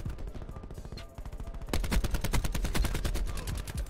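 Automatic gunfire in Call of Duty Black Ops 4 multiplayer, sparse shots at first, then a fast, sustained burst of rapid rounds growing louder and closer, with several weapons firing at once.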